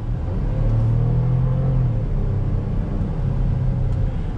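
A 2008 GMC Acadia SLT SUV engine revs, a deep, steady rumbling drone with a rising note held for a few seconds, close and loud with no talking.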